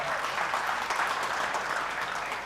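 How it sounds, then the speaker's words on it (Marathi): An audience claps at a Sony Marathi channel launch event, a steady, even patter of many hands that sounds somewhat distant and soft, with no talking over it. "वाजवायचे तर वाजवा, छान छान वाजवा बरं टाळ्या"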